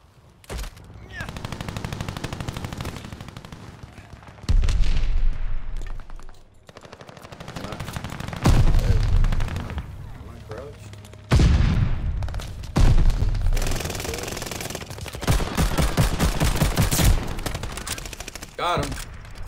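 Call of Duty Vanguard gameplay with bursts of rapid automatic gunfire and single shots, loud and repeated in several clusters across the clip with brief quieter gaps, alongside other game sounds.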